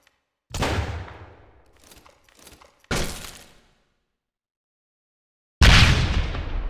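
Shotgun blasts in a mobile shooter video game: three loud, separate booming shots with decaying tails and a few smaller crackles between them, alone with no talk.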